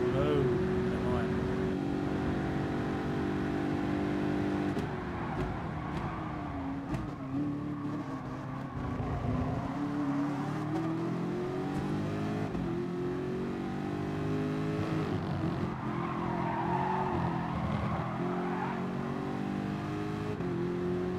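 Honda NSX race car in Gran Turismo Sport, its engine droning steadily and shifting pitch as it accelerates and eases off through corners, loud and continuous for the whole stretch.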